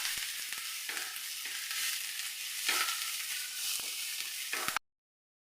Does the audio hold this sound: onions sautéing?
yes